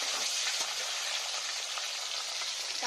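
Tomatoes frying in hot oil, a close, steady hiss and crackle of sizzling that holds at an even level throughout, with no voices.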